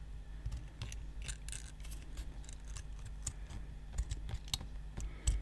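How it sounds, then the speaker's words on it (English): Scissors cutting thin 5mm brass sheet by hand, a string of small sharp clicks and snips in an uneven rhythm, close and fairly quiet over a low steady hum. "really easy 5mm brass like this to cut out using a pair of scissors"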